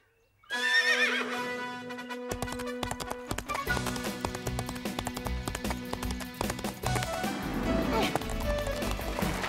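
A horse whinnies amid busy clip-clop hoofbeats and a dense musical backdrop, with voices talking now and then.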